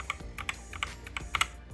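A Gamakay MK61 mechanical keyboard fitted with red switches is typed on. A quick, uneven run of about a dozen close, crisp keystroke clacks lands within under two seconds, with no voices.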